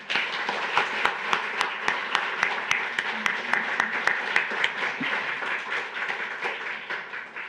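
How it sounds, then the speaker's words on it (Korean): A church congregation claps steadily in a large room, a sustained round of applause with some louder individual claps standing out. "우리 영광의 박수 드리겠습니다"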